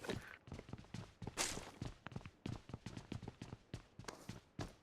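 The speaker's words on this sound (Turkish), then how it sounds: "Ayak sesini duydum." Footsteps of a player character in the battle royale game PUBG, a quick, regular run of crisp thuds and scuffs that repeats steadily throughout, close and fairly loud with no talking.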